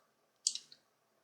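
A single crisp mouse click from right-clicking in software, quiet and close, alone in near silence.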